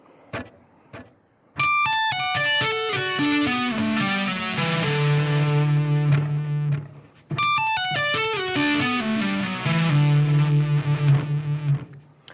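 Distorted electric guitar plays a metal solo lick slowly, heard twice: each pass descends through harmonically rich sustained notes and settles on a long held vibrato note, loud and alone with no talking.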